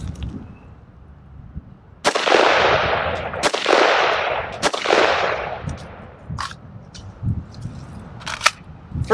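A Geissele URGI MK16 10.3-inch carbine-length rifle fires three sharp, loud shots at uneven intervals, each with a long echoing decay, followed by quieter scattered pops of other shooting in the distance.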